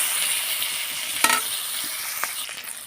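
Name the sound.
stirring fried bhola fish in oil in a wok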